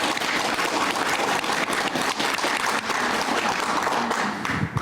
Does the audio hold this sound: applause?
yes